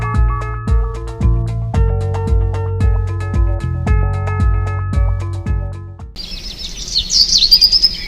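Birds chirping and singing in Baja California Sur, bright rising calls entering near the end after a passage of steady plucked music, fairly loud and clear with no talking.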